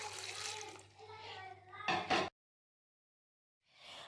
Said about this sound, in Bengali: আমি এখন কুকারের মধ্যে দিয়ে দিচ্ছি অল্প পরিমাণে জল।